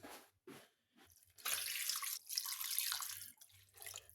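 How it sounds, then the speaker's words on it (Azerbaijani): Water poured into a chicken sauce in a pan, a short splashing stream after a few quiet drips and taps, close and fairly soft. "Biraz da su əlavə edəcəyik."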